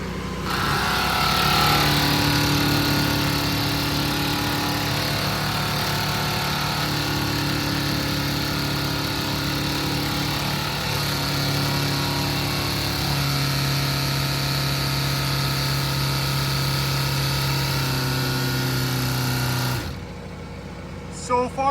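A BMW X6 engine cranks, catches and settles into a steady idle after a pump repair, with a loud continuous hum whose pitch shifts in a few steps before the engine cuts off near the end.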